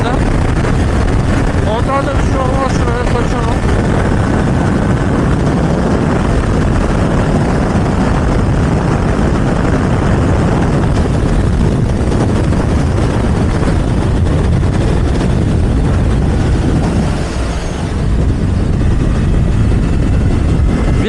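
Yamaha MT motorcycle engine running steadily while riding on the road, loud continuous drone mixed with heavy wind buffeting, close throughout with a brief dip near the end.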